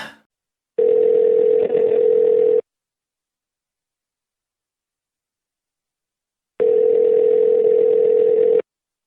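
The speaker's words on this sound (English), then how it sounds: "You grab your phone and you dial the local pizza shop." A telephone call tone sounds as two long, steady electronic beeps separated by several seconds of silence, clear and alone like a ringback signal.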